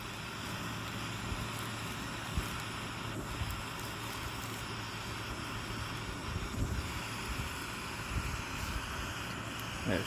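Wind blows steadily outdoors during camp cooking with a Stanley Adventure cook set, a continuous broadband rush and rumble against the microphone with occasional gusty swells and faint handling knocks underneath.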